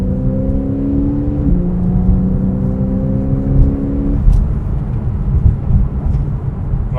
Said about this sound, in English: I hope you can hear the sound of this beautiful, naturally aspirated boxer flat 6 engine.